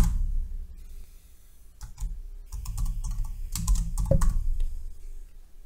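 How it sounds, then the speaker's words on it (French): Close, crisp typing on a computer keyboard while an email address is entered, with irregular bursts of keystrokes separated by short pauses and no speech. "vous allez taper l'email du destinataire"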